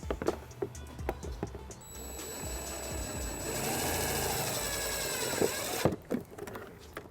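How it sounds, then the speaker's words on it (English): A 1/4-inch socket on a power driver runs a self-tapping screw into the body of a 2018 Dodge Grand Caravan: a few short bursts, then a sustained high whir for several seconds that stops abruptly, with some handling clicks around it. "We're going to use the provided self-tapping screw and a 1/4-inch socket."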